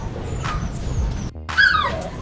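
Phu Quoc puppies with black tongues whimper and let out a single high, wavering yip near the end, over a steady rumble of background noise.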